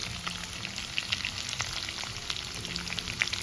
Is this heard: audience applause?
no